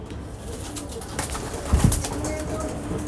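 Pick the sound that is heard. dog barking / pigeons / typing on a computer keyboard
pigeons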